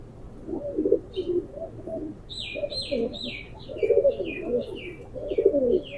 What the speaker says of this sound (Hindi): बहुत अच्छा कबूतर है माशाल्लाह,